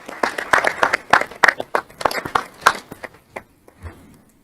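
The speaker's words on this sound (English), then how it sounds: "So I would like all of us to say thank you to them with a quick round of applause." A quick round of applause for town staff at a council strategic planning workshop, scattered claps rising in a dense burst and then thinning out to a few stragglers within about four seconds.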